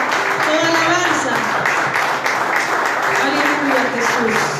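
Church congregation applauding during a worship service, dense, sustained clapping filling the room while a voice speaks over it.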